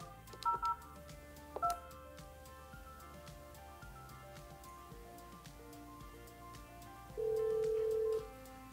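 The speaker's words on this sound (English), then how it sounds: "Place the second phone call." Touch-tone keypad beeps from a Yealink desk phone dialing a second call while the first is on hold, two short bursts of tones followed by a longer steady tone, clear and close with no talking.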